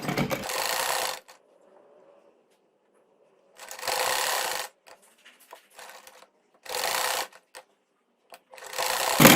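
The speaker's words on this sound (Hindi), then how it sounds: "अब हम ये इस गले की दूसरी साइड पर जो है वो सिलाई लगा रहे हैं।" Sewing machine stitching along the second side of a neckline with piping, loud close whirring runs in four bursts separated by silent gaps with faint handling clicks.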